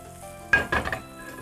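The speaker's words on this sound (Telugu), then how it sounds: "ఇదే ప్యాన్లో చేసుకోవాలి కాబట్టి ఫస్ట్ వెజిటేబుల్స్ వేసేస్తున్నాం" Zucchini pieces and other vegetables hit a hot pan with a brief, sharp sizzle lasting about half a second, then settle back into a quiet kitchen background.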